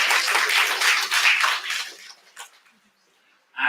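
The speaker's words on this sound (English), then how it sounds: "Let me have a big round of applause for that." Applause from an audience at a faculty development programme on Cadence EDA tools, loud and dense for about two seconds, then thinning to scattered claps and fading to near silence before a voice resumes.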